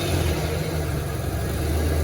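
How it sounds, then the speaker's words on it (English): 1994 Ford Ranger engine idling after a new throttle cable was fitted, a steady low rumbling idle heard up close with no talking. "you guys hear how it's idling right now?"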